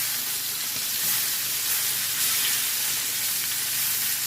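A T-bone steak sears in a hot pan, giving a loud, even, unbroken sizzle and hiss that holds steady from start to finish with no voices.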